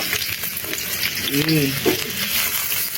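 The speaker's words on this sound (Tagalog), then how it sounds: "nung mainit na yung mantika, ay ilalagay na po natin yung bawang at saka sibuyas" Garlic and onion sizzle steadily in hot oil in a pan for spaghetti sauce, a dense close frying hiss with faint stirring, no talk.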